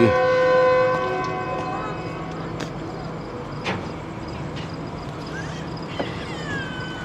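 The Jaffer Express passenger train, 40 Down, passing on a Pakistani line: a loud horn blast opens, then a steady rumble of rolling rail traffic continues with faint clanks and squeals.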